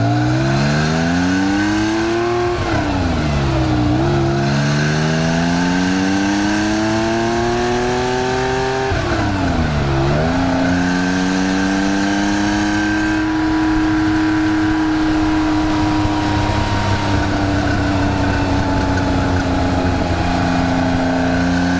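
A restored Porsche with an engine rebuilt to 2.9 liters by John Holleran drives off. The loud engine revs climb and drop through several gear changes, then settle into a steady, strong cruising drone with no talking.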